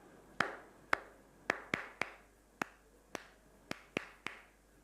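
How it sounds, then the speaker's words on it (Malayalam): About a dozen separate, irregular hand claps in a classroom, sharp and fairly close, with brief quiet gaps between them, as children clap for the winners of a bead-threading contest. "എല്ലാവരും നല്ലൊരു ക്ലാപ്പ് കൊടുത്തേ."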